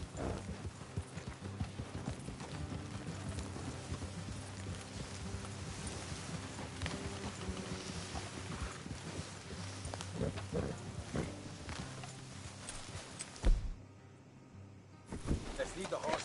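Horse hooves clip-clop steadily in the Western video game Red Dead Redemption 2, riders trotting along an off-road trail with a rumbling music bed beneath, briefly dropping out near the end.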